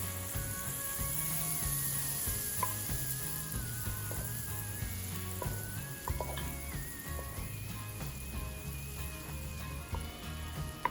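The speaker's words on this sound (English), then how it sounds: "After your wok is heated up, we're going to add 1 stick of butter. And I'm gonna let this melt." A stick of butter melting in a hot wok gives a faint, steady sizzle with light crackles, heard under soft background music and occasional small clinks.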